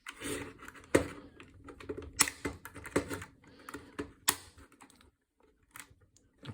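Plastic shell of a Razer Wolverine V2 Chroma controller being pried open, a run of sharp clicks and cracking snaps at close range, several loud pops spaced irregularly with quieter scraping between them.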